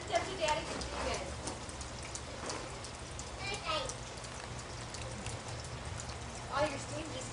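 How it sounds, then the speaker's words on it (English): Steady rain falls around an outdoor hot tub as a soft, even hiss with scattered drops, quiet and constant throughout, while faint voices murmur in the background. "Oh, it's raining."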